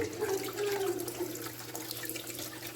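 Salmon fish is rinsed under running water in a kitchen, giving a soft, continuous splash and trickle close by for a few seconds, with no voices over it.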